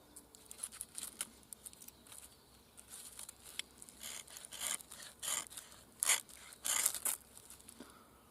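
An army-style striker scraped repeatedly along a ferro rod during a one-log bushcraft fire lighting, giving a series of short, bright rasping strokes, near and fairly faint, with no talking.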